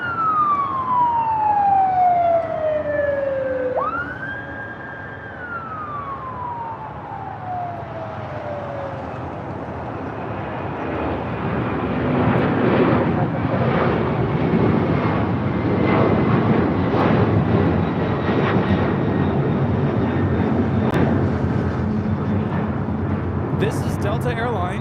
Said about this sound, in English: This is Delta Airlines 678 taking off to JFK on a 767-300ER.